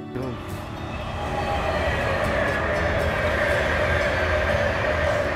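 A train passes on a mainline railway, a loud steady rumble and rush that builds slightly and holds, heard alone without talk.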